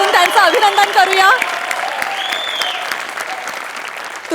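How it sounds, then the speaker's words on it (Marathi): Audience applause in a studio comedy show, loud sustained clapping from a crowd, with a voice and musical tones rising over the start before the clapping carries on alone. "एकदा जोरदार टाळ्या वाजवून त्यांचं अभिनंदन करूया."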